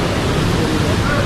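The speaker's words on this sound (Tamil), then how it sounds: "இங்கே பாருங்க, இதான் ஃபால்ஸ்." A forest waterfall gives a steady, loud wash of rushing water, broad and unbroken from start to end, with no other sounds standing out.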